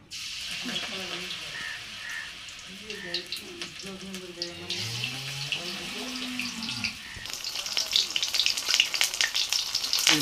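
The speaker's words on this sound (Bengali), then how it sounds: "আবার পুঁই শাকের বড়া ভাজতেছে" Malabar spinach (pui shak) fritters fry in hot oil with a steady sizzle and bursts of crackle, while a voice talks over the cooking and the frying grows louder and busier toward the end.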